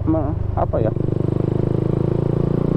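Suzuki Satria FU motorcycle fitted with a modified silencer and a custom racing engine, running with a steady, even throbbing exhaust note close by after a short burst of speech at the start.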